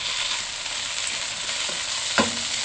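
Seasoning paste stir-fried over low heat for pork-filled sago dumplings, a steady even hiss of frying with a couple of faint scrapes and one brief sharp clink of a utensil.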